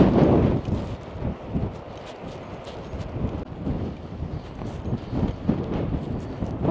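Strong wind buffets the microphone at a Yorkshire seaside town, a loud, continuous roaring rumble with gusty surges throughout and no voices.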